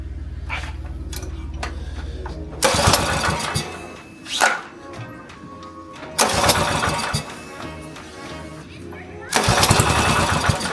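Small go-kart engine with the choke on cranking and catching in several loud bursts, each broad roar lasting one to three seconds between quieter gaps of idle and handling noise, up close.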